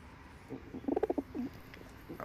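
Pigeon cooing, a "mohar wala" pigeon among birds being caught, heard as a soft, near, rhythmic burst of several low coos in the middle, then quieter calls over faint background noise.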